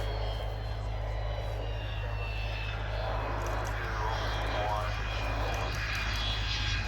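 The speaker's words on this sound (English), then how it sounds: "touching down now, after an incredibly rare demonstration, the Lockheed U2 of the 99th Expeditionary Reconnaissance Squadron, US Air Force" A Lockheed U-2 spy plane of the US Air Force touching down at an air show, giving a steady, loud, broad jet roar that holds without a break, with faint rising and falling tones in the middle.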